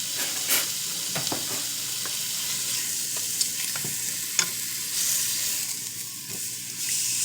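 Boneless pork ribs, just flipped, sizzle and hiss steadily in a hot pan, a continuous close frying crackle with a few small clicks and scrapes and no voices.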